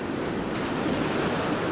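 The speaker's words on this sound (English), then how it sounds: "it's windy as chuff" Strong wind roars and buffets the microphone steadily, a broad rushing noise with no other clear sounds.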